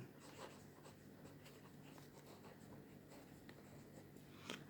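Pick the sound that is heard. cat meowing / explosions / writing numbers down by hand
writing numbers down by hand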